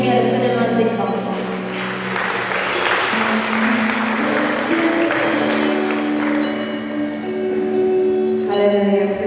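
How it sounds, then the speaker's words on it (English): An audience applauds as a church worship team takes the stage, the sustained clapping blending with voices and steady music throughout. "Please put your hands together for them as they come."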